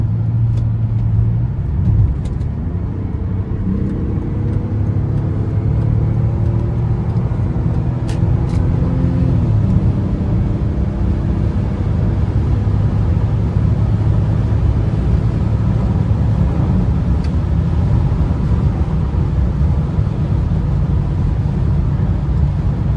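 A BMW E39 sedan on the move, heard from inside with a steady engine hum and road roar throughout, the engine note rising and falling a little partway through, with no talking.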